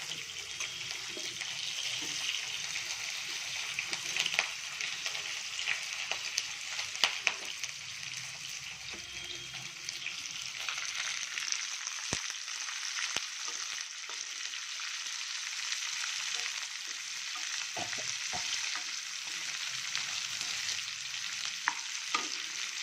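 Thinly sliced onions sizzle and fry in a pan, a steady broadband hiss with occasional stirring clatters and pops running continuously throughout.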